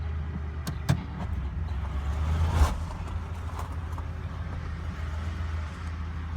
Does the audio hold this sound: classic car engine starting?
yes